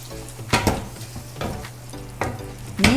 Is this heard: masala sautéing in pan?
yes